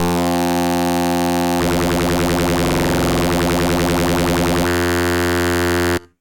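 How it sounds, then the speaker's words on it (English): A Serum 2 synthesizer tone shifts into a harsher, pulsing phase-distortion timbre midway, with sweeping, chirpy overtones, then settles back to a steadier buzz and stops suddenly. "Let's try phase distortion."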